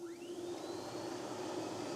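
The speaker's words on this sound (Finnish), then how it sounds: "nyt kato, kun täällä tulee tätä paskasta vettä perässä, niin painetaan imuri päälle" Hakomatic P430 floor scrubber with its vacuum switched on, a steady loud whirring hum with a rising whine as the suction motor spins up, indoors in a garage, with no talk.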